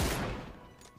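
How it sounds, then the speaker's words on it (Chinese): A single loud burst of gunfire in the mobile shooter Peacekeeper Elite, sniper mode, fading out quickly within about a second, with no voices. "继续在这共鸣点上不断的开枪"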